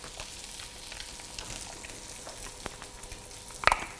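Crushed garlic and fresh thyme frying in oil in a pan, with a steady close sizzle throughout and a brief sharp clatter near the end.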